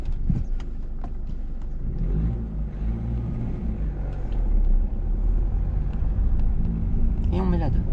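A learner's car pulls away again during a driving lesson focused on braking practice. The low engine rumble builds steadily under ongoing conversation in the cabin.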